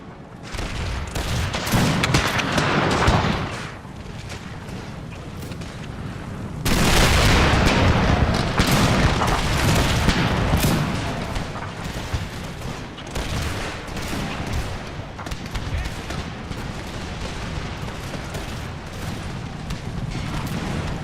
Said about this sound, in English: Doesn't take that long to load a cannon in real life. Alright, well, these cannons are done.